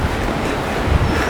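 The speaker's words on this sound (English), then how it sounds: "it's real windy here today" Strong wind gusting at about 20 miles an hour outdoors where mares are ridden, a steady roaring rush buffeting the microphone with low rumbling surges throughout, no one speaking.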